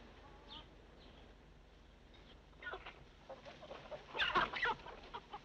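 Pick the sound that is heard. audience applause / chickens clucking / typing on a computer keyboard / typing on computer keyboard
chickens clucking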